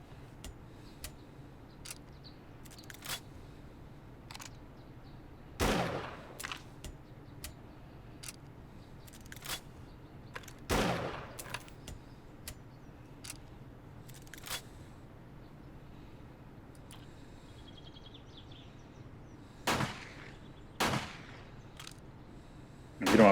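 Gunfire in the video game 7 Days to Die: scattered sharp shots, some single and some in quick pairs, rising over a steady low background hum with faint ticking between them.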